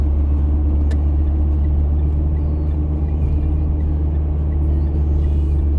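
Steady low engine rumble and road drone from inside a Mitsubishi Challenger being driven, continuous and fairly loud throughout with no voices.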